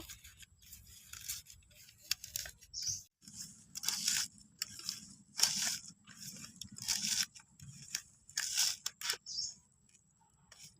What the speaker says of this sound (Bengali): কাঁচা লঙ্কাগুলোকে সেরকম লবণে ভালো করে দলে নেব